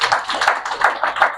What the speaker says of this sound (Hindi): इनके लिए भी तालियां होनी चाहिए